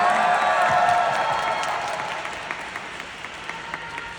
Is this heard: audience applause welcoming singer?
yes